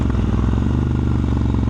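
A motorcycle engine runs steadily after an air filter and spark plug change, a close, loud, even low rumble with rapid regular firing pulses.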